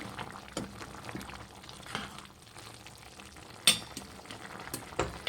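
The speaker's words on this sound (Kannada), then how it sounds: "ಲಿಡ್ ಕ್ಲೋಸ್ ಮಾಡಿ ಒಂದು 10 ನಿಮಿಷ ಬೇಯಿಸಿ" Hotel-style Guntur chicken cooking in a pan, a low bubbling simmer with occasional clinks and stirring knocks, near and fairly quiet, with no voices.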